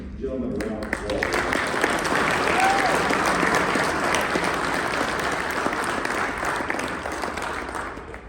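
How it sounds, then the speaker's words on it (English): An audience at an opening-session keynote of a conference gives a sustained round of applause, dense clapping swelling to a full roar and holding steady for several seconds before gradually thinning out. "I want everybody to give these ladies and gentlemen a round of applause."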